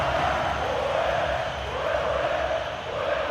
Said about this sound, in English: judging by the crowd's reaction